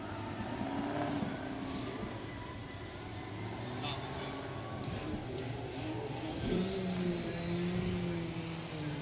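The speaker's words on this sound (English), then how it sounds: "Got a drift car on the move there, David." Drift car engine revving at a Roadkill Nights drag and drift event, a steady loud motor drone with rising and falling pitch throughout, heard under continuous announcer commentary and crowd ambience.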